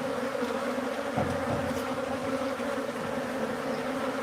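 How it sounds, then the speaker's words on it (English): A swarm of bees clustered inside a house soffit gives off a dense, continuous hum, steady and fairly loud, with no talking over it. "That's solid bees."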